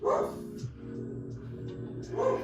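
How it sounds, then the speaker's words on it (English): Dogs barking somewhat close by, a couple of loud bursts at the start and end with a lower, steady murmur of sound between them. "Dogs are going off."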